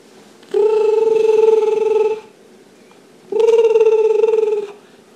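Two long electronic ringing bursts, each about two seconds, separated by a pause, clear and fairly close with no talking.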